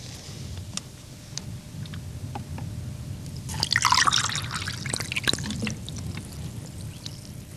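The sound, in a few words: water poured onto a lump of shale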